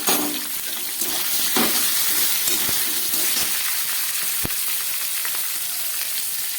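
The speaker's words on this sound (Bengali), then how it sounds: "আলু, বেগুনটা, কুমড়োটাকে একটু ভালো করে ভেজে নিলাম।" Potato, eggplant and pumpkin frying in a pan give a continuous bright sizzle and hiss, with a few sharp clicks and stirring taps on top.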